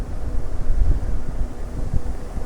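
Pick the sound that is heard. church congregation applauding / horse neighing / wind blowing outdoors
wind blowing outdoors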